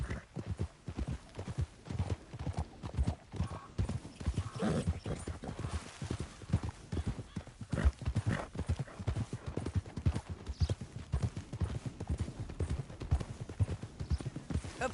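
Horse hooves pound in a fast, steady galloping rhythm throughout in the video game Red Dead Redemption 2, with a faint neigh and low voices beneath.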